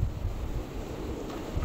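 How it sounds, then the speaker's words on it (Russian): Wind blows hard through a snowstorm in Altai Krai, a brief low, blustery rush buffeting the microphone with no voices. "Вообще прям метет ветер."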